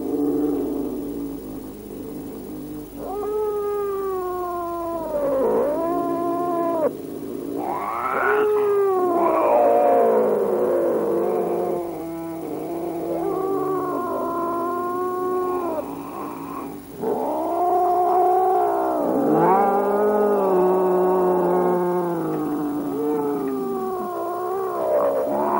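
Two wildcats face off in a territorial fight, trading long, wavering yowls and caterwauls with rising and falling pitch, interspersed with growls, loud and close, continuing in bursts throughout with no talking.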